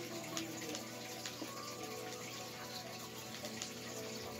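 Steady running water pours continuously in a video game as water is placed, a constant rushing wash with no speech over it.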